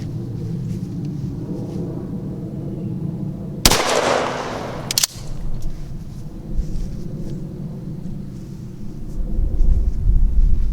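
A shotgun fires a buffered load of 21-pellet number 4 buckshot at an outdoor range, one loud sharp blast with a brief rumbling echo, followed by quieter outdoor ambience.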